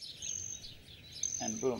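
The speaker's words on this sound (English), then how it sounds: "you can actually hear the birds singing already." Faint, high birdsong chirps and trills drift through the quiet ambience of the strategy video game APWARS, and a voice briefly speaks over them near the end.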